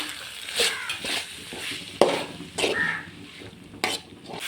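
Grated coconut is stirred into a knol khol stir-fry, with soft sizzling and a series of scraping, shuffling spoon strokes across the pan at an uneven rhythm, fairly close.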